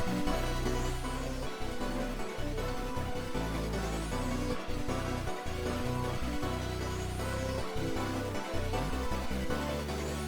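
A full hip-hop beat made in FL Studio plays loud and dense, with booming bass hits, punchy drums and layered melodic synths in a steady rhythm, with no voices.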